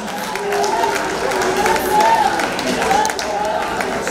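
A church congregation applauds for Jesus during a miracle service held in a dry fast, with steady clapping and crowd noise running under loud voices throughout.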